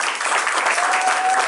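A studio audience on the Family Feud game show breaks into brief, loud applause, a dense burst of clapping lasting under two seconds with no speech over it.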